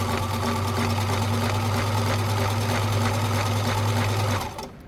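A Kenmore sewing machine stitches a zigzag pattern, a loud, close, rapid rhythmic clatter over a motor hum that runs steadily and then winds down just before the end.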